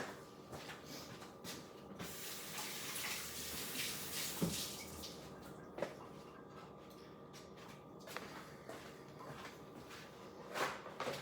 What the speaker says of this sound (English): I'm gonna go wash my hands again, of course.